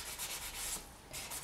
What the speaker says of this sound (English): So I'm just going to pop that down and sand like this to kill off most of it.